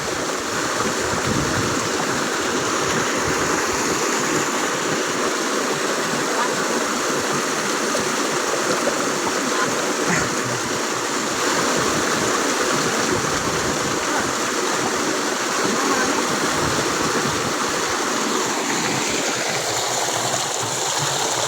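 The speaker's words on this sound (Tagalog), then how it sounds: "Lakas ang agos, Bert." Strong rushing current at Balanga Falls pours as a loud, continuous roar of turbulent water, close by and steady throughout, with faint voices barely rising above it.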